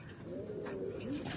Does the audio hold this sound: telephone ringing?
no